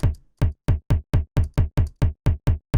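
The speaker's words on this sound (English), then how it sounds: "for the deep tom, I have a sample sounding like this" A deep tom drum sample, pushed back in tone, strikes about eleven times in a fast, regular run, each hit short and punchy against silence.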